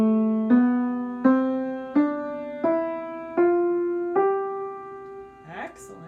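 Piano notes are played one after another with both thumbs on middle C, making six or seven clear, evenly spaced, ringing tones that rise slightly in pitch. A short breath or voice sound follows at the end.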